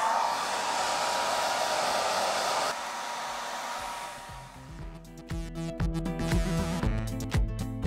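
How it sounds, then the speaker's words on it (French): A steady, loud rushing whir of a hair dryer blowing for several seconds, then it cuts out and music with a thumping beat takes over. "Démonstration avec ce sèche-cheveux."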